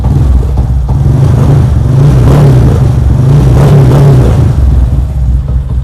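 A Honda Wave 125 motorcycle engine runs close by with a steady, throaty drone, swelling slightly as it is revved mid-way before settling back, with no voices.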